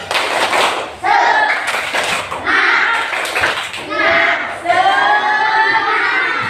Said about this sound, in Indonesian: Sebelum belajar kita tepuk semangat dulu nak. Tepuk semangat.